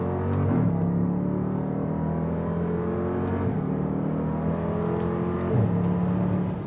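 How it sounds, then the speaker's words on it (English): An SUV accelerates hard, its engine droning loudly from inside the cabin and stepping through gear changes as the revs climb, then drop, then climb again. "This is the first time I've ever legitimately fully accelerated in this SUV."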